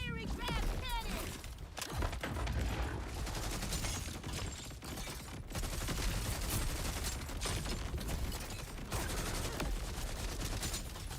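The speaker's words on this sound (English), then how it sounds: "Fiery grab cannon." A fiery grab cannon fires in the video game Harlowe amid dense, continuous rapid gunfire and blasts, loud and unbroken throughout, with game effects layered on top.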